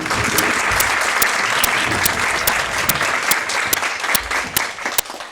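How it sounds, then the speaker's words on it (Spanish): An audience at a lecture applauds to welcome a speaker, a dense mass of clapping with a few sharp, close claps standing out at a roughly even pace over the crowd. "Les pido un aplauso y una cordial bienvenida."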